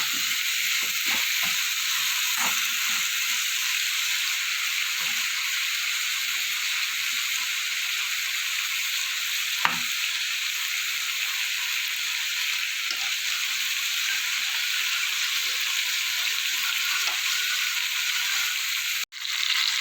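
Bottle gourd frying in a pan for a Bengali lentil dish, a steady close hiss of sizzling oil with a few soft stirring scrapes, continuous and alone throughout.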